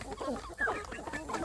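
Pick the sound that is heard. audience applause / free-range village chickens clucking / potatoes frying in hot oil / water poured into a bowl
free-range village chickens clucking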